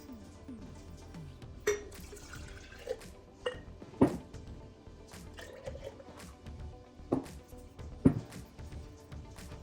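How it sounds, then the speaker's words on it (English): Water sloshes and drips while a jar is rinsed out, with soft scattered splashes and a few sharp clinks of glass, fairly quiet and close, with no talking. "just rinse this jar out"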